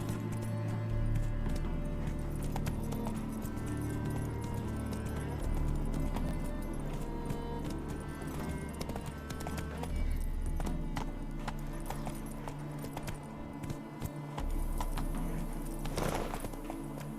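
Horse hooves clip-clopping at a steady gallop in The Witcher 3, running continuously over game music and ambience.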